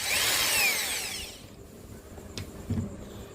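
A power drill bores a hole through wood to form a loop for threading a snare, a loud broadband whir for the first second and a half that fades out, followed by a few faint knocks.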